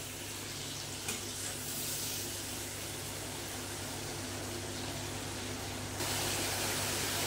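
Water added to a pan of frying small fish for a spicy curry makes a steady, soft sizzling and bubbling hiss, faint and continuous, growing slightly stronger near the end.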